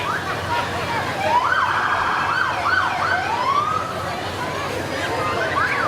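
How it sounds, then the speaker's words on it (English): Wailing emergency vehicle sirens at a Christmas parade in Front Royal rise and fall in sweeping tones, fairly close and loud over a steady background rumble of traffic. "all the sirens and things going on"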